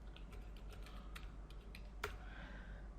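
Keys tapped on a computer keyboard as a password is entered, a quick run of soft, faint clicks followed by one sharper keystroke, heard alone without talking.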